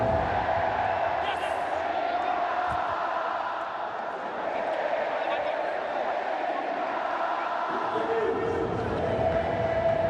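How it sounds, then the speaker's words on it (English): A faithful cricket crowd sings in a stadium after India's Champions Trophy win, a steady, dense roar of many voices filling the whole stretch with no break, broad and continuous rather than punctuated by single shouts. "you may well be able to hear the singing of this very, very faithful crowd"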